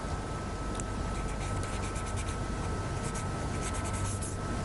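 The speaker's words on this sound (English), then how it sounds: "When I go, I carry this piece of paper. I want you to sign here." A pen scratching across a sheet of paper as someone signs it, a close, continuous rough scribble with short strokes and no speech.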